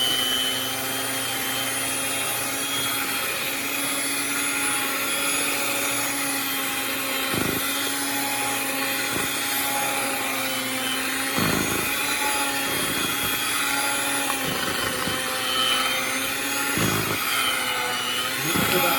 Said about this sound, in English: I'm going to use my hand mixer today.